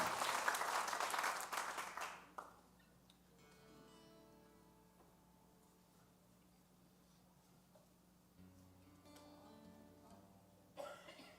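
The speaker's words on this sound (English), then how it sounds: "Give her a big round of applause." Applause from a concert audience at a benefit show for Hero Dog Rescue rises for the opening act, dense and loud for about two seconds before dying away into quiet room noise, with faint scattered sounds and a brief burst near the end.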